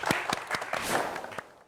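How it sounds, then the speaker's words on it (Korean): A studio audience on a Korean science talk show claps for two guests, a magician and a science education researcher, in a short burst of crisp, close applause. "함께 해주신 두 분에게 박수 부탁드리겠습니다"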